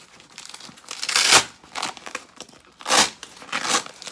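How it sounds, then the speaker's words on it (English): Velcro is pulled apart on a Vanquest Katara 16 case. It gives close, rough ripping bursts in a few uneven pulls, with two stronger tears standing out. "If you undo this snap and pull this plastic back, I mean not plastic, but Velcro,"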